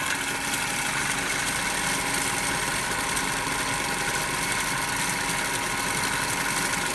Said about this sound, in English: So you can hear the sound that the motor has started.